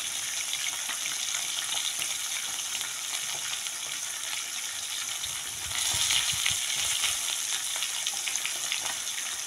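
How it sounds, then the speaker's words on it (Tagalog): Tilapia fish fries in hot oil with a loud, continuous sizzle and crackle that grows slightly stronger partway through, close up and with no talking. "yung ating finish na yung prito na natin tilapia"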